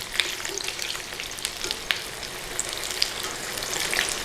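Onion bhajis frying in hot oil give a steady, crisp crackling sizzle with scattered sharper pops, fairly close and continuous, with no talking.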